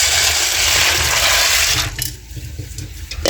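A loud, steady rush of tap water pouring into a pot of beans to soak them, cutting off near the two-second mark and leaving faint trickles and small knocks.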